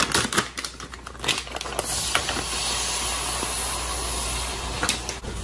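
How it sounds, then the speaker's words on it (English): Shrimp sizzle and hiss in a hot pan on a home stove, a loud steady crackling spray with sharp spits and pops, especially at the start. "I'm gonna cook shrimp in a pan."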